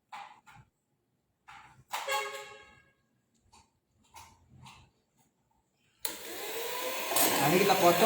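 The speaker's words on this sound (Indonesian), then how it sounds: "Nah, ini kita kocok sampai dia creamy ya." An electric hand mixer starts beating butter with powdered sugar until creamy, a loud steady whir that kicks in partway through and rises at a higher speed, following a stretch of speech.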